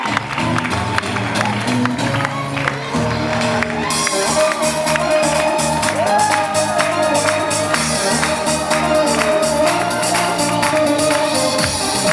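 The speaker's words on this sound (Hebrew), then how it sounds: "לקבל בהמון מחיאות כפיים את אלון" At a bar mitzvah celebration, a crowd applauds and cheers for Alon, with continuous clapping, whoops and shouts carrying over loud music for the whole stretch.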